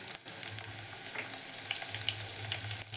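Curry leaves, garlic and green chillies fry in hot oil for an okra stir-fry. A close, steady sizzle and crackle with scattered pops runs throughout, no voices over it.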